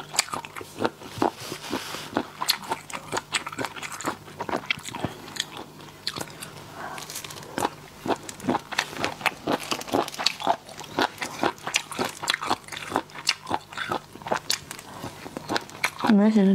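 Raw spicy shrimp bitten and chewed up close in a seafood mukbang, a rapid series of loud wet crunches and crackles that continue steadily throughout.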